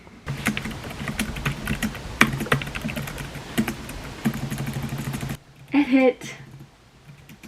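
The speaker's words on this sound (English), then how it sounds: "It's so nice to type on. The other one I was using was like you have to press really hard and it doesn't like click nicely." Quick, clattering keystrokes tap out on a computer keyboard in close, busy bursts for about five seconds. Then the typing stops and a short spoken word follows.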